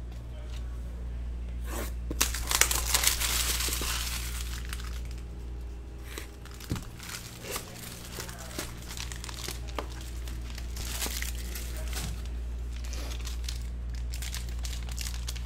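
Gold Rush Argonaut baseball card packs are torn open and their foil wrappers crinkle, a run of close crackling rips and rustles spread over the whole stretch, with a steady low hum underneath.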